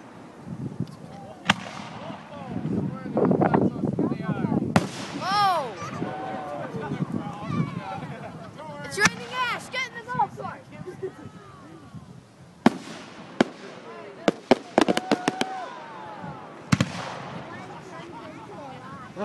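Pathfinder Fireworks 2012 display: fireworks burst and crackle repeatedly, with sharp loud bangs and whistling rising trails scattered across the scene. People talk and exclaim throughout between the explosions.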